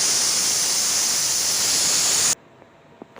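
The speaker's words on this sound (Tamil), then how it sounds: "விசில் வந்துடுச்சு." A pressure cooker cooking tomato rice releases steam in a loud, steady, close hissing whistle that cuts off abruptly, leaving near silence with a couple of small clicks.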